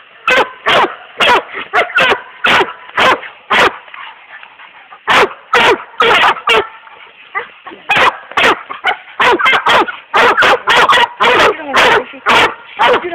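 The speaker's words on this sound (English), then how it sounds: "Where are my John Boy dogs" Several dogs bark repeatedly in sharp, loud bursts, close by, with irregular clusters of barks and short pauses between them, a few higher yips and whimpers mixed in.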